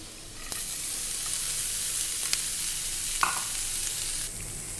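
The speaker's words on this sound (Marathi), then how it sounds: "कोबी छान परतून झाला आहे" Chopped cabbage sautés in a pan with a steady, close sizzle. A few light clinks of a stirring spoon break through the hiss.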